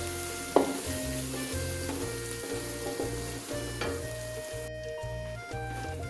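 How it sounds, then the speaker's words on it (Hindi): Garlic and ginger fry with golden onions in hot oil, a steady crackling sizzle with occasional stirring clinks of a utensil. "इसमें हम लहसुन अदरक डाल देंगे और लहसुन अदरक को हम पका लेंगे थोड़ी देर"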